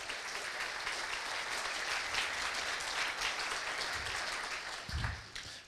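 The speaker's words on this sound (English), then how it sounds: "they definitely deserve that round of applause" An audience gives a round of applause at a talk on Codex Alimentarius, a fairly quiet, steady patter of many hands clapping from a distance, continuing evenly throughout.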